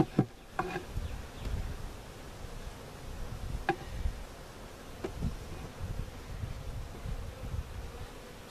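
Honeybees buzzing around an opened hive on a bee farm during an inspection, a steady close drone with occasional rustling and sharp clicks of frames being handled.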